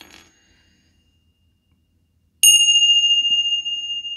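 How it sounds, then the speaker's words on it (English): A single small bell strikes after a moment of near silence, ringing clearly and close with a long, wavering shimmer as it fades. "Let's just do a little bell cleanse there."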